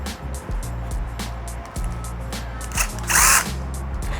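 Power drill backing screws out of a Mercury 3.3HP outboard motor, several short close whirring bursts with pauses between, ending in a louder, higher-pitched spin.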